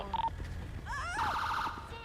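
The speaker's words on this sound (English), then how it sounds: "let me just get a siren. Siren check, please, mate." Police car siren in a GTA V roleplay game, a short electronic wail rising and sweeping near the end of the clip after a brief tone, with voices and game noise underneath.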